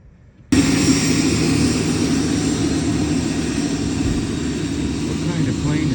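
A jet plane flying over an airport makes a sudden, loud, steady roar that starts abruptly and holds at full strength for several seconds, with a faint voice beneath the engine noise.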